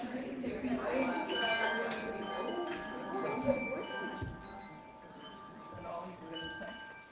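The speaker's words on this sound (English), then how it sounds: "the chimes have calmed down" Chimes ring in a church fellowship hall, with clear bell-like tones layered and overlapping, some struck repeatedly, then slowly fading as the ringing dies down.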